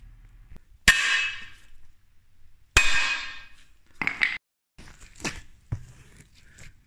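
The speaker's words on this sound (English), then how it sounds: "hammer the plate up against them, and that'll give me the centers for that" A hammer strikes a steel adapter plate for a DIY bellhousing in a workshop: two sharp, ringing metallic blows followed by several lighter taps and clinks, close and with quiet gaps between.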